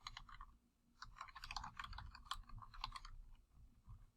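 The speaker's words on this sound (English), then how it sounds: "go ahead and start out by typing in the name of your assignment" Fingers type on a computer keyboard, a quick irregular patter of soft key clicks in short bursts with brief pauses, close and fairly quiet, with no talking.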